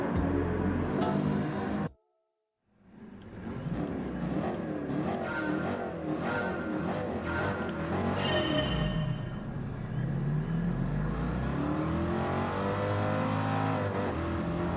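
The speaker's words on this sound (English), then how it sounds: "You can hear all the cars in the background." Race car engines from Gran Turismo Sport rev and roar continuously, several cars overlapping with rising and falling pitch sweeps, after a brief silent gap near the start.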